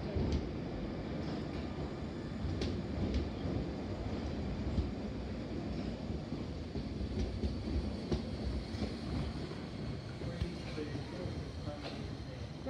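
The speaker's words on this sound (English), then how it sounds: "Very slow train." A slow train passes through Harrow and Wealdstone station, a continuous low rumble with faint rail clicks, steady and moderately distant, with some wind on the microphone.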